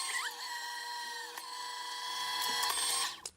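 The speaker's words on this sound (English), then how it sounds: "so using my new Gemini Junior die cutting machine" A Gemini Junior die cutting machine runs with a steady mechanical whine and harmonic motor hum, a few faint clicks partway through, rising slightly before cutting off at the end.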